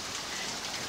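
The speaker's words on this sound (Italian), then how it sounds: "It's ice. Grandine." Hail pelting down during an April spring storm, a dense, continuous rattling patter that stays fairly loud and even throughout.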